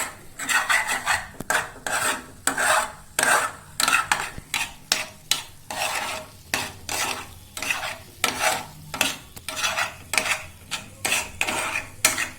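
Pasta ingredients being mixed in a pan for homemade Italian-style pasta: a steady run of close scraping, clattering stirs against the pan, one stroke after another with brief pauses, and no talking.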